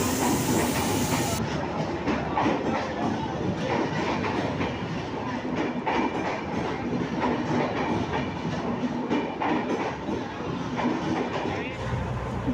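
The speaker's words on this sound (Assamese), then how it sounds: "ট্ৰেইন আহি সোমালেহি, আমি উঠি লওঁ" A passenger train heard from on board, bound for Guwahati, with a loud, continuous rumble and rhythmic clickety-clack of wheels on rails, plus steady hiss and voices in the carriage.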